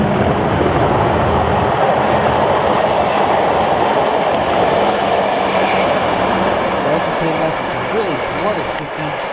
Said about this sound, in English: the train was coming and it was in sight